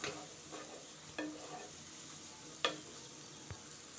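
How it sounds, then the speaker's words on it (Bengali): Chicken pieces tossed with ground spices in a pan make a faint, low sizzle, punctuated by a handful of soft scrapes and one sharper knock of the spoon; quiet overall, with no voices. "এবারে সমস্ত গুঁড়ো মশলাগুলো দেবার পরে ভালোভাবে মশলাগুলো নাড়াচাড়া করে নেব"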